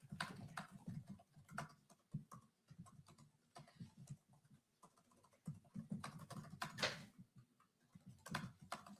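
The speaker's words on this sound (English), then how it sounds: "since he's just typing" Someone typing on a computer keyboard, irregular bursts of quick clicking keystrokes close by with short pauses between runs and no talking.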